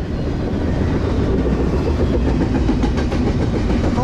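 A long Norfolk Southern intermodal freight train hauled by two EMD SD70ACe locomotives rumbles past close by, a steady heavy roar with rhythmic clicking of wheels over rail joints throughout.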